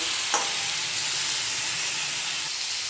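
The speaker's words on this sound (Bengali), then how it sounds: "হলুদের গুঁড়ির সাথেও আমি বেগুন আর শিমটাকে ভালো করে নেড়ে চেড়ে নেব।" Eggplant and flat beans with turmeric sizzle steadily in a pan, a close hissing fry with one brief knock of a spoon near the start and soft stirring throughout.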